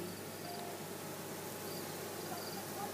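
A steady, soft buzzing hum of many bees fanning their wings, continuous and even throughout, with no talking.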